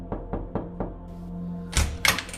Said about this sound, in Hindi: अशोक ने दरवाजा खटखटाया